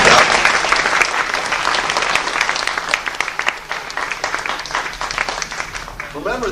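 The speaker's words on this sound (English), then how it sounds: "let's have a nice round of applause for all of our pilots" A theater audience gives a sustained round of applause, dense steady clapping from a crowd that slowly thins toward the end.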